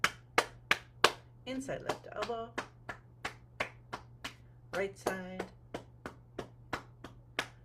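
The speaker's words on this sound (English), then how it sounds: "Clapping hands" Cupped hands clap and pat rhythmically on the body in a steady series of sharp, close slaps, some in quick flurries, while a woman gives spoken guidance in between.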